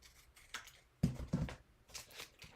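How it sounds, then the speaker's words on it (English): Pinking shears snipping through a photo for an art journal, with a few close, crisp cutting snips in quick succession, the middle ones loudest, in a quiet room. "I'm going to cut this photo. I feel like pinking shears are also another throwback"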